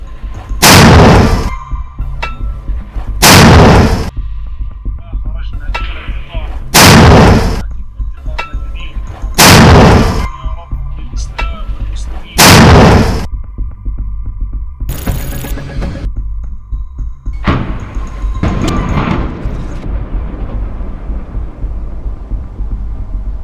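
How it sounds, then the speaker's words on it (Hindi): A series of loud, heavy booms from launcher shells firing and exploding among ruined buildings in Gaza, spaced a few seconds apart, with fainter thuds and a rumbling backdrop between them. "ये गोले सामने खंडर पड़ी इमारतों के बीच जाकर गिरते हैं, जिनमें जोरदार धमाके होते हैं"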